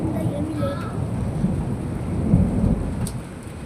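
Heavy rain pours outside a house, a dense, loud, continuous low rumble and wash with no breaks. Faint voices sound early on beneath it.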